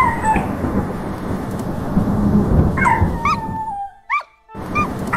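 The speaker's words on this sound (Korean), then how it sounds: "강아지 짖는 소리가 천둥 소리에 묻힌다." A dog yips and barks in a few short, sharp bursts over a heavy rumble of thunder and rain, the storm noise dominant until it briefly drops away near the end.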